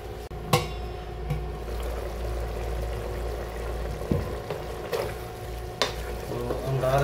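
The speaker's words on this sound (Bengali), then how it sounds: "আমাদের প্রথমেই একটু নেড়ে দেবো এটাকে" A spoon stirs goat meat curry in a pot, a steady close scraping and sizzling bed with occasional sharp clinks of metal against the pot's side.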